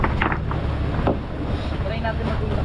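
A boat engine hums steadily beneath rushing wind and water noise, with muffled voices faintly in the background.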